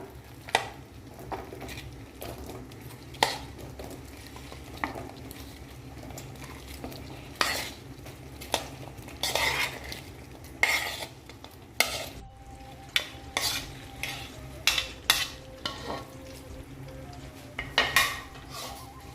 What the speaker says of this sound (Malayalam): നല്ലപോലെ ഒന്ന് മിക്സ് ചെയ്തെടുക്കാം.